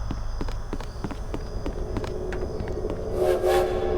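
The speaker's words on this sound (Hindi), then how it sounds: "ये है वो रेलगाड़ी।" A train rumbles steadily in a horror video game, with rhythmic clacking of the carriages and a horn-like tone rising near the end, loud and continuous with no talk.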